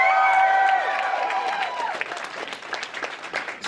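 Comedy club audience applauding and cheering, a dense burst of clapping with a whoop that rings out over the first seconds, then thinning scattered claps as it dies down.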